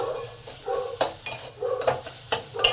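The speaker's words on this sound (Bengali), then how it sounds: "এবারে ভালো করে সব কিছু কষে নেব" Cauliflower stems fry in a pan with ground coriander, cumin and turmeric, a spatula scraping and stirring in quick, uneven strokes over a soft, close sizzle.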